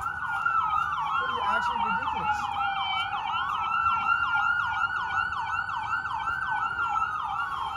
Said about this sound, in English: I hear sirens pretty far away, but I hear sirens.